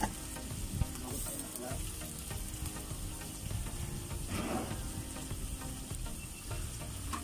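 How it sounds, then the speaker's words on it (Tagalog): Food frying in a pan while being stirred, a steady loud sizzle with scraping stirs throughout, no voices. "Yan at ating haluin na mga kautol. Haluin na natin yan."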